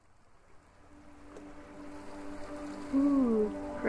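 Ocean waves in the video game A Wolf in Autumn, a soft, steady wash of surf that grows gradually louder, with a tonal musical swell rising near the end.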